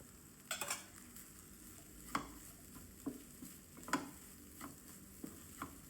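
A spoon stirs vegetable pulao with spring onions in a pan, giving soft scrapes and clinks every second or so over a faint steady sizzle, close but quiet.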